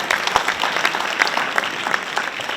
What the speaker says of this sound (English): People usually clap when I say that.